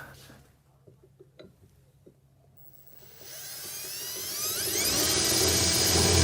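A drill spins up and bores a hole through metal held in a vise, starting after a quiet stretch of small taps and handling noises, then rising to a loud, steady grinding whine that builds and holds to the end.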